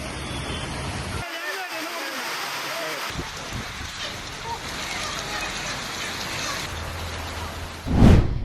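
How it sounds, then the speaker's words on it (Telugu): Heavy sudden rain falling in Hyderabad, a continuous broad hiss of downpour that stays fairly even, with a voice speaking over it and a louder burst near the end. "వర్షం భారీగా కురిసింది"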